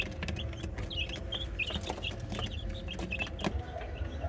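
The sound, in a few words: chickens clucking in a coop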